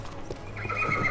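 Horse whinnying with clip-clop hooves in the fantasy game Dark Messiah of Might & Magic, a short close neigh rising loud over steady hoofbeats.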